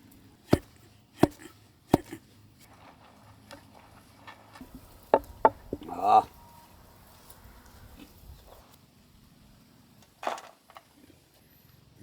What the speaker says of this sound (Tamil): நல்ல பவுடருமா இடிச்சாச்சுமுக்கா.